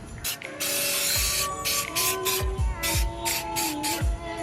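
Header paint hisses from a spray can in several short bursts separated by brief pauses, with the can's rattle and clicks in between, close and fairly loud.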